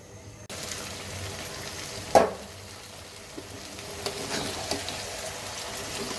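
Broad beans, cauliflower and new potatoes frying in a pan give a steady close sizzle with a few sharper stir clatters and crackles and no voices.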